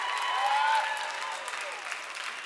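Audience clapping for a poet at a live spoken word poetry slam in Canada, a steady patter of many hands that is moderately loud and fairly even, with some whistles or cheers mixed in.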